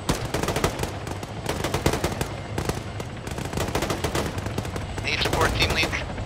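Rapid gunfire in an Arma firefight: dense bursts of automatic rifle and machine-gun fire crackling close and loud without pause, with voices talking under the shooting.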